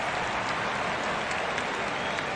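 A baseball stadium crowd claps in a dense, continuous wash during a tense late-inning at-bat at a Red Sox home game, steady and fairly distant.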